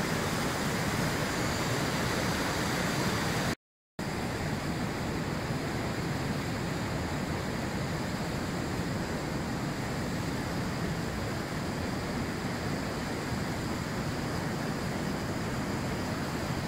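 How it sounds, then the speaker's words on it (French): A spring river cascade at St-Lin in the Laurentides, Quebec, running high with meltwater, roars as a steady, loud, broadband wash of rushing water throughout, broken only by a brief dropout. "La rivière a définitivement baissé tout ce matin."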